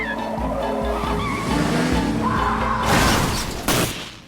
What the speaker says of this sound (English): a perfect storm of events causes Edie to crash into a pole